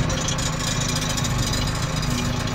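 A JCB machine's engine runs steadily while dozing to level ground, a close, continuous low drone and rumble with no pauses and no talking.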